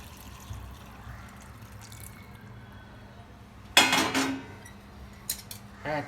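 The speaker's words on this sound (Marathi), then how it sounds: "हे पाणी आहे ना आपण बघून टाकून देऊ" Hot water splashes out of a pot of cooking chicken in a brief burst against metal, followed by a few scattered clinks of the pot; otherwise quiet room noise.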